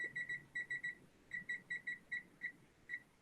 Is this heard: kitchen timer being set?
yes